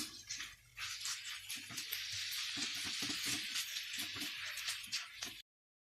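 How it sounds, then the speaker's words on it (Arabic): Minced meat and onion fry steadily in a pan, a bright, continuous sizzle broken by the scrape and clatter of stirring, close and fairly quiet, until it cuts off abruptly near the end. "هنزل بكميه اللحمه المفرومه بسم الله الرحمن الرحيم، وهقلب اللحمه المفرومه مع البصله"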